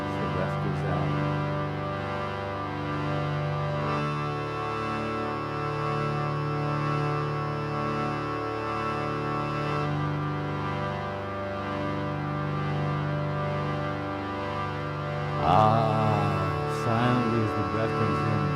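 A harmonium holds a sustained, layered drone of steady chords, shifting pitch a few times and swelling near the end, with no voice audible.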